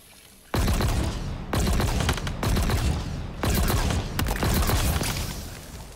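Weapon fire in the Halo Infinite video game, loud close bursts of rapid gunfire in several rolling volleys that start abruptly after a short quiet moment and run back to back.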